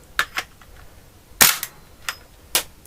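An air rifle fires through a chronograph, several sharp, close snaps in irregular succession, one noticeably louder, with quiet pauses between.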